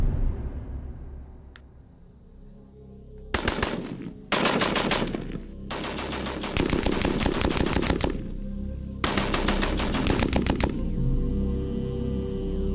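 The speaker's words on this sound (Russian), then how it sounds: "наш стрелок хочет проверить это, обстреляв часть обшивки Мессершмитта 109" A Spitfire machine gun fires at a piece of Messerschmitt 109 aluminium skin, with several loud sustained bursts of rapid fire separated by short pauses.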